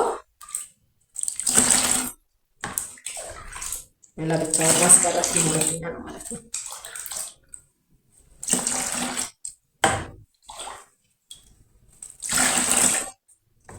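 Water is poured in short bursts while a liquid soap batch is being mixed, the splashing alternating with someone talking between pours.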